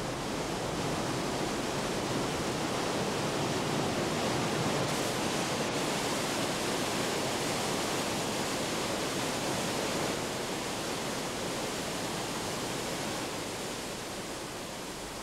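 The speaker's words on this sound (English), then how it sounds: "the river forms some of the most powerful waterfalls in Europe" The Krimml Falls in the Austrian Alps, a powerful waterfall dropping 380 meters in three large cascades, give off a constant broadband roar of rushing water with no voices.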